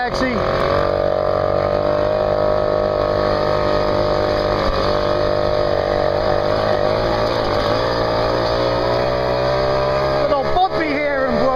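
A taxi drives over a bumpy Brooklyn road, its loud, continuous engine drone rising and shifting in pitch, with muffled voices under the noise.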